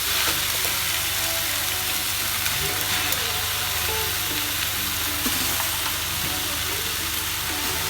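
Lamb meat and onion frying in a pot, a loud, continuous sizzle with faint stirring scrapes throughout and no talk.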